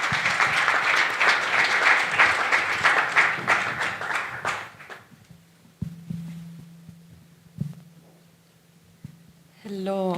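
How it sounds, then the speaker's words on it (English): A conference audience at the Connecting EU 2023 event applauds a group of presenters with dense, loud clapping that tapers off after about five seconds, followed by a few quiet knocks and a voice starting to speak. "Please give them an applause."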